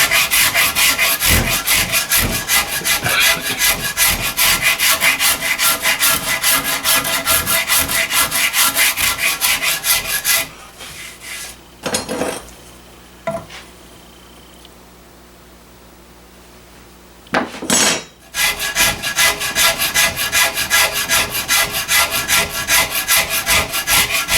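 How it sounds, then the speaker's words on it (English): A coarse wood rasp scrapes across wood in steady, rapid back-and-forth strokes, loud and gritty, pausing for several quiet seconds midway before the filing resumes. "A little bit smoother cut than that last rasp, even on the coarse side."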